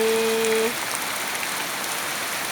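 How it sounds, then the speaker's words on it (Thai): Heavy rain pours steadily in Pattani, a dense continuous hiss of drops drumming and running off a roof edge, close and loud, with a brief tonal beep at the start and no talking. "เพื่อนๆได้ยินเสียงฝนไหมคะ ฝนฝนฝนที่ปัตตานี"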